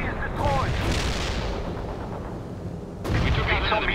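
Medium artillery in the World in Conflict strategy game: low booming blasts with broadband rumble, one near the start and another sharp burst about three seconds in, set against continuous battle noise.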